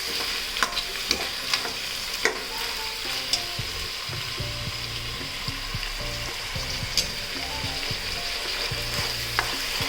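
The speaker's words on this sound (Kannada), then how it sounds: "ಈಗ ಇದನ್ನು ಸ್ವಲ್ಪ ಫ್ರೈ ಮಾಡ್ಕೊಳ್ಳೋಣ ಎಣ್ಣೆಯಲ್ಲಿ." Sprouted legumes frying in oil in a pan while being stirred for sambar, giving a steady close sizzle broken by frequent scraping and clicking strokes of the stirring spoon, with no talking.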